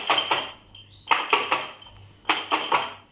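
Garlic cloves rattling in a glass jar, shaken hard in three loud bursts of rapid clinking and knocking, with short pauses between.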